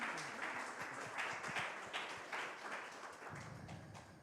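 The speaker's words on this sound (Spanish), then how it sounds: "Fuerte el aplauso" Audience applause in a chapel, a sustained wash of many hands clapping at moderate distance, fairly faint and even, fading slightly toward the end.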